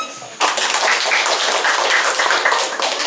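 A church community gathering in Indonesia breaks into audience applause, a sudden burst of dense clapping from many hands that starts sharply and carries on evenly at close range.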